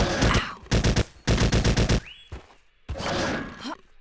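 Bursts of automatic gunfire from an unreliable, awkward weapon in the video game Trespasser, several loud rapid strings of shots close up, broken by short gaps and a brief rising electronic whine.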